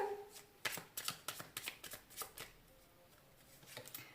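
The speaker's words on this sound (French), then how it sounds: "Donc on va recouvrir ces cartes." Tarot cards handled and covered on a table, giving a close run of about a dozen quick papery slaps and riffles with no talking.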